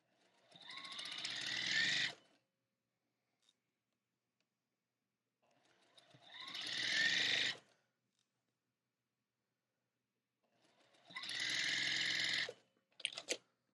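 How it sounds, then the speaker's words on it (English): A sewing machine chain stitching pairs of quilt block pieces, running in three steady bursts of about two seconds each with silent pauses between, close and clear, with no voices. "now is a great time to do some chain stitching"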